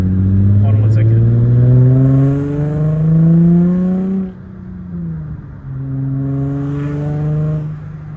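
A car engine revs hard in rising, swooping surges, loud and nearby, with a pause before a second climb, while a person talks over it.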